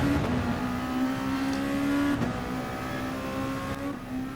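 Race car engines roar steadily in GT Sport as cars run down the start-finish straight, a loud sustained drone with a high engine whine that dips briefly mid-way and again near the end.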